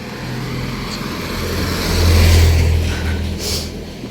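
A vehicle passes on a road, its engine rumble swelling to a peak midway and then easing off as it moves away.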